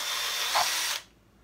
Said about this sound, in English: I'm going to go ahead and drill these pilot holes right here.